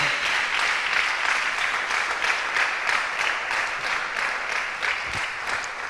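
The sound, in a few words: congregation applause in church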